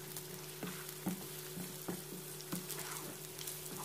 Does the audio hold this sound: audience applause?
no